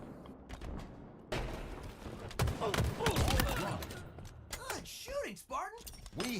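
Video game gunfire in a Halo-style ball match, scattered shots and impact crunches mixed with game effects, under lively talk from a player.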